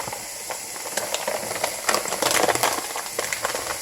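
Garlic salt hits a hot pan of nacho filling and gives a steady, close hiss with scattered crackles and a few brief stirring scrapes, with no talk.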